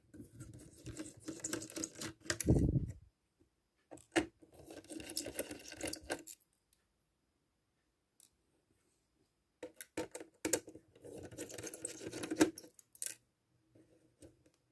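Screws come out of the fan on an Acer Aspire 5750 laptop during a teardown, giving close rattling, clicking handling noises in two bursts separated by near silence.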